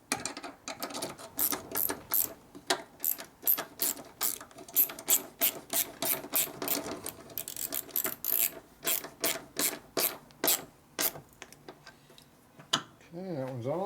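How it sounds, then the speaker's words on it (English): A mini ratchet working on a 1965 Harley-Davidson 74ci FLH panhead motor during a rebuild, with rapid bursts of close, crisp clicking strokes in uneven runs, pausing briefly between turns. "we need a little mini ratchet here"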